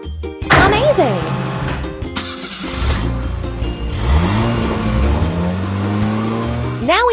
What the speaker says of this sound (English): We have to assemble. Pickup truck.